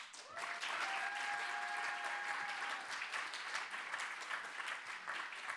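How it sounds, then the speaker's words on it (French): An audience claps steadily for a speaker at an eloquence contest final, a full, even round of applause with a few brief whistles early on. "On encourage et on applaudit très très fort Mélisa Germain."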